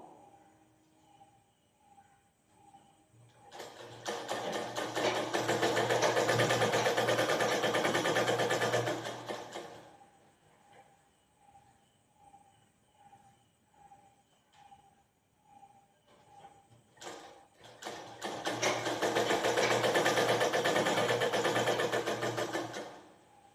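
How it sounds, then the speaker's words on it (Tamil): Sewing machine stitching fabric slowly in two long bursts, each several seconds of steady whirring, separated by quieter stretches with faint rhythmic ticking. "அதனால தான் நம்ம கொஞ்சம் கொஞ்சமாக தைக்கிறோம்"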